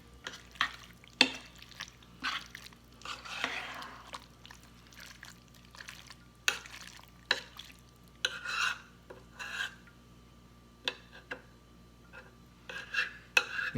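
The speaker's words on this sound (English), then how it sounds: "My big old spoon. We're going to gear this up to high on the crock pot. And I'm just going to get to stirring." A big spoon stirs chili in a crock pot, giving intermittent soft scraping and wet sloshing strokes with occasional clinks against the bowl, fairly faint and close.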